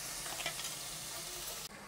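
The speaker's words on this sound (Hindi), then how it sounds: "अनियन को लाइट गोल्डन होने तक फ्राई कर लेंगे" Onions fry in about two spoons of oil, cooking toward light golden, in a short, soft, steady sizzle that is close and quiet, with faint stirring and no voices before it cuts off abruptly near the end.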